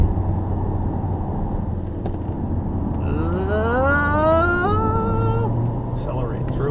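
An Opel Ampera driving on the Nurburgring, its drive sound a steady loud rumble with a rising whine as it accelerates through a corner, the pitch climbing over a few seconds before settling.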